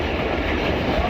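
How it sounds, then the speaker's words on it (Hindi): The Pakistan Express rumbles steadily through Siala railway station, a loud, continuous roar of rolling wagons heard from close by with no break. "और ये अभी सियाला रेलवे स्टेशन से क्रॉस कर रही है।"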